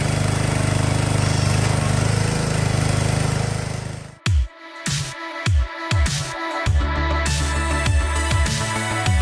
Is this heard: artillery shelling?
no